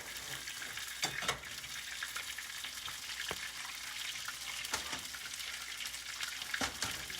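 Chicken legs frying in melted butter in a pan, a steady close sizzle and crackle with a few sharper pops and spatters scattered across it.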